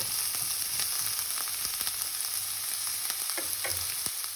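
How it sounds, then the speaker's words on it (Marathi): Chopped onion frying in hot oil in a pan, a constant close crackling sizzle with small pops and stirring scrapes, steady and fairly loud with no voices. "आतां पॅना हांवें तेल घायलां आनी तेल गरम जालें म्हणटकीर हांव आतां पियाव घालतां. पियाव मातशें भाजया हो."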